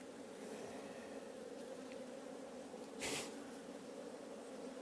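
Honey bees hum in a dense, steady drone from an open, strong hive crowded with bees, a close continuous buzz with a brief louder swell near the end.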